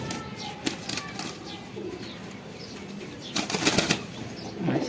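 Domestic pigeons flapping their wings in a home loft, short fluttering bursts, one brief flurry early and a louder clattering burst of wingbeats later, close to the listener amid quiet room noise.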